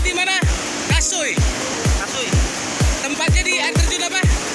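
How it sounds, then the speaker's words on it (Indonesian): The Gangsa waterfall in Kasui, Lampung gives a steady broadband roar of falling water beneath loud, excited talking and repeated low thumps. "Air terjun Gangsa."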